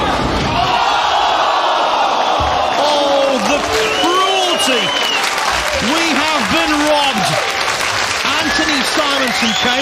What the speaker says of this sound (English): And the crowd here up on their feet, deservedly so, for Anthony Simonsen.